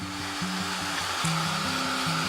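A hair dryer blows steadily and close on a printed paper towel napkin laid over a Bible journaling page, giving a continuous loud whooshing whir with a slightly wavering low motor hum.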